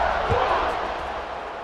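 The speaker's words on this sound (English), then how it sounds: "This home crowd starting the season off with offensive fireworks and looking to go 1-0. They are loving their squad." A stadium home crowd in the College Football 26 video game roars in a steady, dense wash of cheering that fades slightly over the short stretch.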